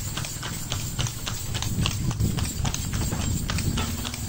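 A horse's hooves clip-clop steadily on a hard surface, close and fairly loud, with a continuous rhythmic pattern of sharp strikes throughout and faint background noise.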